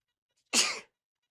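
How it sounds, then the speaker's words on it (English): A single sharp sneeze, close and clear, bursting out once at a sports team's rookie minicamp and ending quickly, with silence before and after. "Get the sneezes here in the 6 o'clock."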